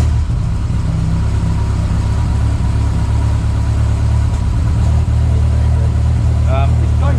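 A Ford Escort Mk1 with a Pinto engine and a throttle body conversion, on its first start, runs loud and close in a steady, unbroken drone, with a few brief pops near the end.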